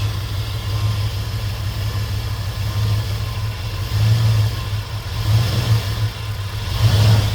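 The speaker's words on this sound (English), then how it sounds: "it's pulsating and running bad now because of the bad gas" An old $750 truck engine runs rough on bad gas, a steady idle with a pulsating low throb that swells and surges unevenly, close and continuous with no voices.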